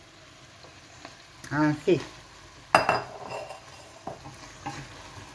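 Potatoes for a lentil stew fry in a pan with a soft sizzle, a spoon scraping and clinking as they are stirred, while a voice briefly speaks.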